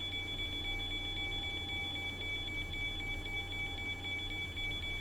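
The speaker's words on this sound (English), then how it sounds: "I'm not quite sure what we've got an alarm for" Cockpit alarm in the Zibo Boeing 737 in X-Plane 11, a faint steady high electronic tone with a soft regular pulse, sitting over low constant cockpit hum with no one talking.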